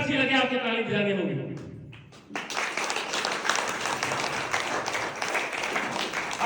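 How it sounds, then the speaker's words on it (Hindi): Audience at an open seminar breaks into clapping after about two seconds of someone speaking, the applause then continuing steadily and fairly loud to the end. "जब भी मेरी बात अच्छी लगे आपको ताली बजानी होगी।"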